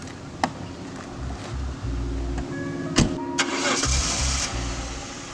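A Jaguar X300 sedan cranks and fires up, settles into a mid-pitched idle, then pulls away, with a few sharp clicks and clunks around the start and the engine note rising near the end; fairly close, no talk.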